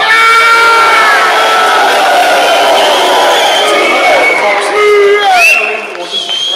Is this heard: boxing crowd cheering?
yes